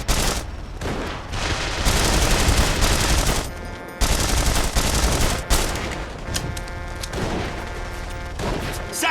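Heavy gunfire in the video game The Saboteur: sustained bursts of automatic fire and loud shots crackling almost without pause, with a few brief lulls and distant booms mixed into the din.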